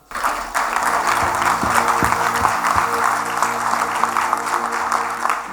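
Sustained audience applause following a technical paper presentation at a conference event, a dense continuous patter of many hands clapping at steady loudness throughout, with a few sharper individual claps standing out near the front.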